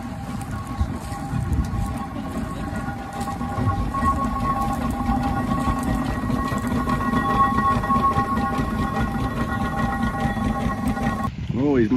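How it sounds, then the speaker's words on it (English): A steam engine at a ploughing match pulling a stuck steam engine free with a wire rope, a continuous rumbling, chuffing mechanical noise with a hissing, clattering texture and a short whistle-like tone at the end. "So what we're doing, using this steam engine here"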